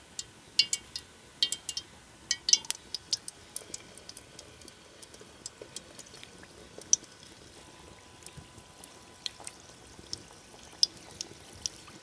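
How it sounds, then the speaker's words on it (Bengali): Singaras lowered into hot white oil in a wok over medium heat crackle with scattered, fairly faint pops and spits at an irregular pace. "এবার আঁচটাকে মাঝারি রেখে সিঙ্গারাগুলো আমি তেলের মধ্যে দিয়ে দেব।"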